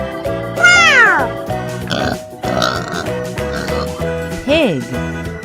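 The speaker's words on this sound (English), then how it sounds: "Pig." A pig grunt from a wooden toy animal sound: a short squealing grunt over background music, then a few quieter snorts and a second squeal.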